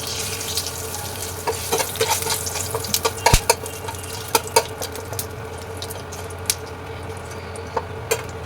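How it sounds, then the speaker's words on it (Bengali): Whole cumin, bay leaves and garam masala hit hot oil left from frying potatoes, giving a continuous light sizzle with scattered sharp pops and crackles, close and alone. "এবার ওই তেলেতেই আমি দিয়ে দেবো গোটা জিরে, তেজপাতা আর এই গরম মশলা।"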